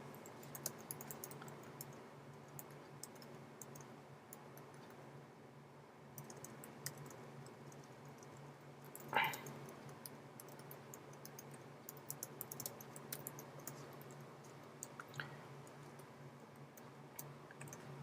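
Code is typed on a computer keyboard: quiet, rapid clicking keystrokes patter on and off for a long stretch, faint and close, with a slightly louder clatter burst partway through.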